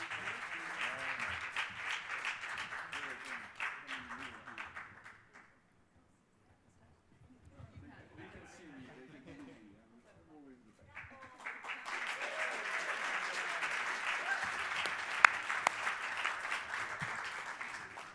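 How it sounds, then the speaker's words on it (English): An audience at a global health conference awards presentation claps for the winners in two bursts of steady, crowded applause separated by a few seconds of near silence, during which a faint voice can be heard. "And if we could just also give one more round of applause, not only to all our winners, but to Zoe Mullins and Lancet Global Health"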